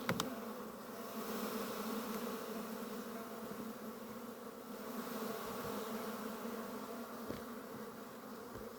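A dense, steady hum of honey bees buzzing around an opened hive frame holding brood during autumn hive work, the drone continuous and close, with a few sharp handling knocks.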